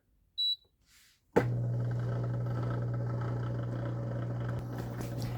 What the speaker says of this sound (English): the first thing it does is it does like a little pump out in case there's any residual liquids in there